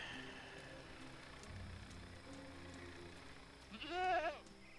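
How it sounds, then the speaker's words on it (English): A single sheep bleats near the end, a wavering, quavering cry that rises over a quiet ambient background in the video game Dreamfall Chapters. "Wait, are there actually sheep around"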